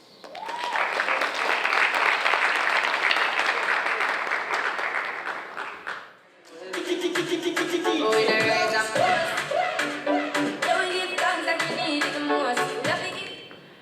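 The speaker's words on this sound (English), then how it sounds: "Round of applause, please." An audience applauds an award recipient at a social development awards event. The first half is steady, dense clapping that dips briefly. The second half is a busier stretch with voices and music-like tones mixed in with the clapping.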